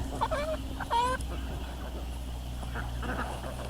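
Young chickens cluck and chirp in a few brief calls early on outdoors, over a steady low background rumble, moderately close.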